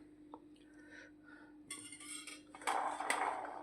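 Cooked tuver (pigeon pea) beans are tipped from a pot into a dish, giving a few soft scraping knocks followed by louder clinks and rattles of utensils against the dish, close by and with no talk.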